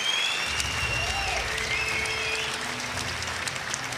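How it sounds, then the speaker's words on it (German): A crowd at an MMA event applauds both fighters before the decision, a sustained, dense roar of clapping and cheering in a large venue, with faint tonal whistles and a low hum sitting underneath. "ich hätte ganz gerne einen sehr lauten Applaus, und zwar für beide Kämpfer vor dem Urteil"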